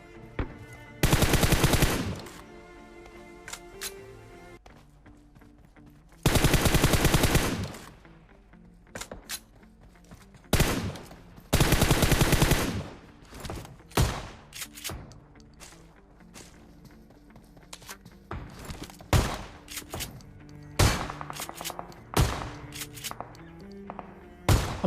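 Repeated bursts of M416 assault rifle fire in a mobile battle royale shooter, with several long sustained automatic volleys and many shorter shots and thumps scattered across the scene, loud and close, no talking.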